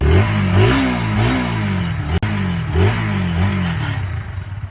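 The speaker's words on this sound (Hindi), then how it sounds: "तो अभी एक्सीलेटर देके देखते हैं।" A high-mileage Honda CBR 150R sport motorcycle engine is revved repeatedly up close, each throttle blip rising and falling in a quick, regular rhythm over a clattery idle.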